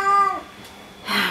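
A cat meows twice up close, a drawn-out tonal cry followed after a short pause by a harsher, breathier second meow.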